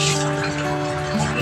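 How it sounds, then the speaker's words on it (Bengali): Hands being washed with soap under a running tap at a home basin, the water a steady close rush with a faint tonal hum underneath and no clear speech. "এখন সাবান দিয়ে হাত ধুয়ে নেবো।"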